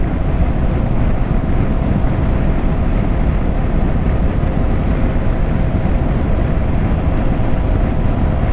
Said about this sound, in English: plane, the plane.